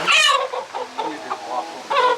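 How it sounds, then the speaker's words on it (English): Chickens shifting and jostling for space on new wooden roosts in a coop, giving a loose run of close, fairly loud clucks and squawks, with a sharper burst at the start and another near the end. "More chicken jostling going on over there."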